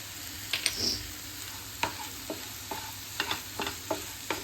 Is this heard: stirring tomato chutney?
yes